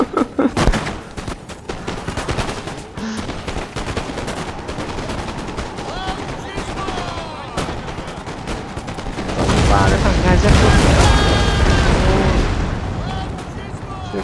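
Musket volleys in the Napoleon: Total War video game: dense rattling fusillades of many rapid shots over a constant battle roar, swelling louder and thicker toward the end.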